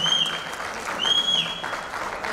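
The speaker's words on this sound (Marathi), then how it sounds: "त्यासाठी स्वतःसाठी स्वतः टाळ्या वाजवा" Audience clapping at a school reunion of the 1979-1980 batch of ZPHS Mannur: steady, dense applause from a gathered crowd, holding at an even level throughout with a couple of faint high whistle-like tones above it.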